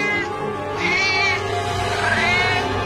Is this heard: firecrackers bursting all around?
no